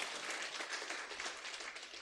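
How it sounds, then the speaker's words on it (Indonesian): Applause from a church congregation during a Sunday worship service, a steady wash of many hands clapping at once, moderately loud and continuous for the whole stretch with no voices over it. "Kita beri tepuk tangan lebih sungguh-sungguh"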